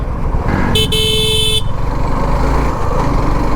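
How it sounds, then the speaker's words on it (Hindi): A short, thin, high-pitched horn honk lasting under a second over the rumble of a running Suzuki V-Strom motorcycle engine and road noise. "बस हॉर्न बड़ा बारीक सा दे दिया यार, हॉर्न ऐसे लगता है स्कूटी का हो जैसे"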